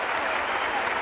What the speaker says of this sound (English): they're giving Charlie Scott an ovation